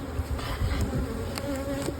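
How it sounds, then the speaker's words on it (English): A honey bee swarm buzzes steadily around a bush, a dense continuous hum of many bees close by, with occasional individual bees passing near. "I can see a lot of bees back in that bush"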